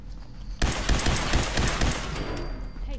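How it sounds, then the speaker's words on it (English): Rapid bursts of gunfire fill a Fallout 4 firefight after a grenade is shot, arriving suddenly as a dense, loud fusillade that rattles on for a few seconds before easing slightly. "Oh, they shot the grenade."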